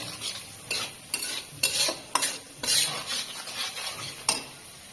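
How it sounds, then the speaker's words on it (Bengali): A utensil scrapes and stirs food in a pan in repeated strokes over a soft, continuous sizzle of frying, close up with no talking. "এবার ভালো করে নাড়াই দেবো। এটা ভাজা হয়ে যাক একটু।"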